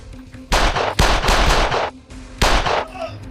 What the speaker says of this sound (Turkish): Silah sesinin yarısında ses kesiliyor.